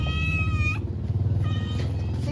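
Cat meowing indoors: two close, loud drawn-out meows with a short rough cry between them, set over a low rumbling background hum, with no talk.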